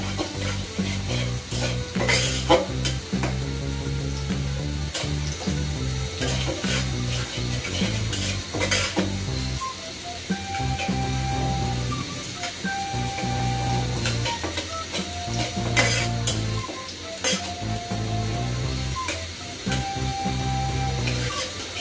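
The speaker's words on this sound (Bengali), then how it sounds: "ভালো করে নাড়িয়ে নিচ্ছি" Food fries in a pan with four dried red chillies, giving a continuous loud sizzle with repeated stirring scrapes and spoon taps throughout.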